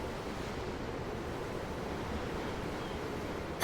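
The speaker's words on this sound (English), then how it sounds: "The waves. They help me think." Ocean waves wash quietly at a wharf in Tales of Arise, a soft, continuous surf hiss with a faint wind edge, steady and low with no voices.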